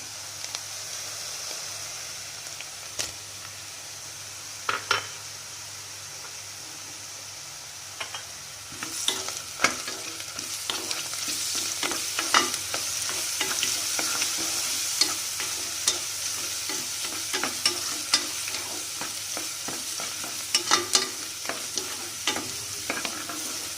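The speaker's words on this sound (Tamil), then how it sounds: "இது கூட இஞ்சி பூண்டு பேஸ்ட்டு சேர்த்துக்கிறேன்" Ginger garlic paste frying on low heat in a pan, stirred steadily, with a constant sizzle broken by frequent scraping and clicking strokes of the spoon, close and moderately loud, with no talking.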